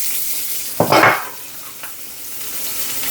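Garlic and onion drop into hot organic coconut oil in a pan, a brief burst of sizzling followed by a soft stir, then a low hiss that settles down.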